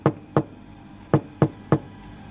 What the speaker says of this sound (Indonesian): Ia pun kemudian mengetuk pintu dengan pelan.